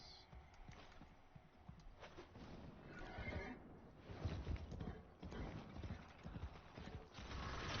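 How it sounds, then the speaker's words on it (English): A horse whinnies amid clip-clopping hooves and mechanical clicks in the video game Warframe, a busy scene with no talking. "Ginger, follow the horse."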